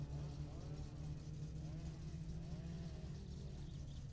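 Engine drone of cars driving past during a rally in the video game My Summer Car, a steady low rumble with rising and falling pitch sweeps, continuous and fairly loud throughout.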